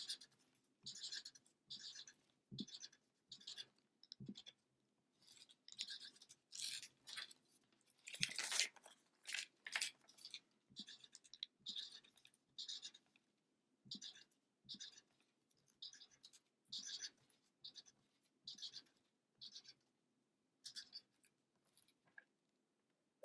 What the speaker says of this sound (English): Start drawing C's with a black marker on both sides of the watermelon.